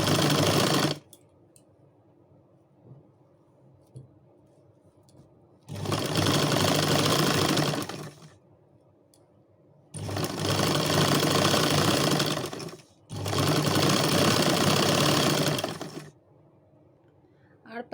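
A sewing machine stitches a sari in three long, steady bursts of fast mechanical running, each lasting a few seconds and separated by quiet pauses, with a shorter burst at the very start.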